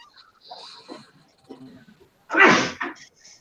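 A single sharp, loud sneeze bursts out after a stretch of quiet conversation, followed by a brief softer tail.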